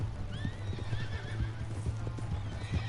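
Horse hooves clip-clop steadily in Red Dead Redemption 2, a regular trotting beat over a low constant hum, with a brief whinny mixed in and no speech.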